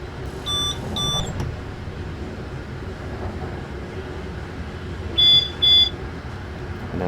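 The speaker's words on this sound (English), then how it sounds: "we've got the two beeps there at the signal" Two short electronic signal beeps sound at about 5.2 and 5.7 seconds in Train Simulator 2021 on the Gotthardbahn near Pfaffensprung, clear above a steady rumble of the moving train, with a similar pair of tones heard near the start.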